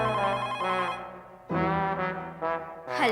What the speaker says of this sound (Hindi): माधवी 1 मिनट, सुनो बेटा, जरा तुम फोन उठाना।